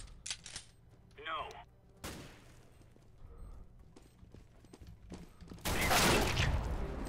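Gunfire in a Counter-Strike: Global Offensive match, including a sniper rifle: scattered sharp shots and bursts at varying distances, with a loud sustained burst near the end over low game ambience.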